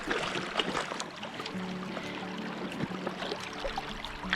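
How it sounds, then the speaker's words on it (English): Water splashing and rippling around someone wading through a shallow river, a steady close wash of small splashes and trickles with a few brighter splashes, continuous throughout. "listening to the splash, listening to the ripples"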